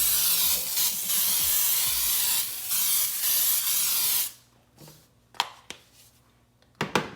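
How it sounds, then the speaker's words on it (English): Baking spray with flour hisses steadily from an aerosol can onto a cake pan for about four seconds, then stops, followed by a few soft knocks and clicks of the can and pan. "It's baking spray with flour."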